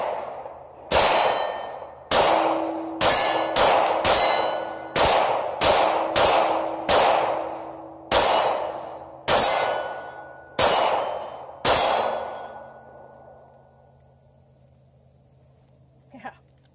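A pistol, a Steyr M9A1 Gen4, fired about a dozen times in an uneven rhythm, some shots ringing a small quarter-size steel target with a metallic ping, loud and sharp outdoors, ending in quiet.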